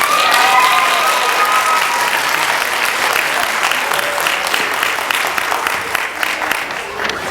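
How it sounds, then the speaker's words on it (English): Loud, sustained audience applause for kindergarten winners at an elementary school district literacy competition, a thick crowd roar of clapping with a brief whistle at the start, easing only slightly over seven seconds. "Let's give our kindergartners another round of applause."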